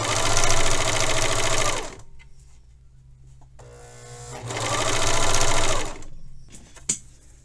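A sewing machine stitches a narrow folded hem in two loud, close bursts of rapid, even whirring, separated by a pause with only faint handling noise, followed by a brief click.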